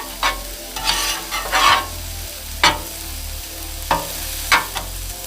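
Peppers and corn sizzle on a Blackstone griddle under a steady frying hiss, broken by several sharp scraping, stirring bursts of a spatula on the flat-top, fairly close and loud, with no talk.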